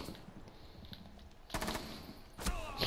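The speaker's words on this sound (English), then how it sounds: "I think he's random firing through walls." Video game gunfire punching through walls, two bursts of rapid shots cutting through a quiet, muffled background, fairly distant and moderate in loudness.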